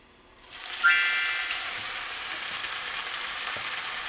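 Japchae ingredients go into a hot pan with sesame oil and are stir-fried for Mokpo-style japchae, breaking into a sudden bright sizzle that settles into a steady, close crackle with no talk.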